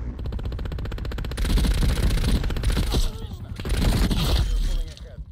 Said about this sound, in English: Let me shoot.